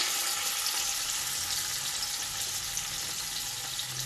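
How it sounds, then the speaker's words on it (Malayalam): Chicken shallow frying in melted butter in a pan for a chicken gravy, giving a steady, close, dense sizzle that holds evenly throughout with no talking. "അധികം മൊരിയേണ്ട ആവശ്യമില്ല, ഒരു ശാലോ ഫ്രൈ ആയിട്ട് വന്നാൽ മതി."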